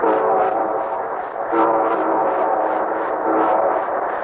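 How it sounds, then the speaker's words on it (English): Old-time radio train sound effect for a railroad-sponsored 1953 broadcast: a steady, loud chugging rhythm with repeating puffs and a sustained whistle-like harmonic tone running throughout. "And here comes our star-studded show train."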